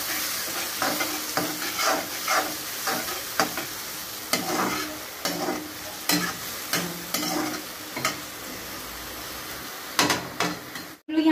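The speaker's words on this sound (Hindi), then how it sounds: "मसालों को एकदम अच्छे से आप भून ले" Spices roasting in a pan for pasta, stirred with repeated scraping strokes at a steady rhythm over a continuous close sizzle. The stirring ends abruptly just before the clip stops.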